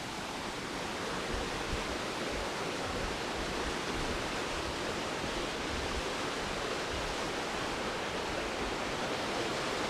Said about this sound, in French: On entend de plus en plus la cascade.